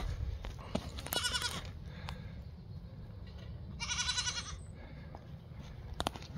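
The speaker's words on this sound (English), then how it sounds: "Coming to check on the little goats." Goats bleat in a few short, bright calls, fairly close, with quiet farmyard background between them.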